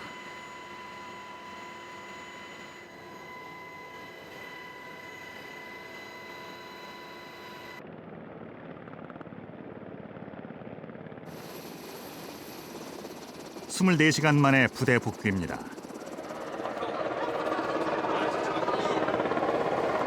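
An Air Force search-and-rescue helicopter carries troops back from a winter mountain training exercise, its steady rotor and engine drone running underneath narration, with a loud buffeting rush near the end.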